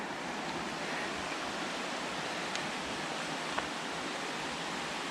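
Doubletop Brook, a mountain stream, rushes steadily with a soft, continuous broadband hiss of flowing water, fairly faint and unbroken throughout, no voices.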